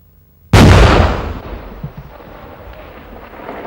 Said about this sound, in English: a target practice round was fired at a prior generation tank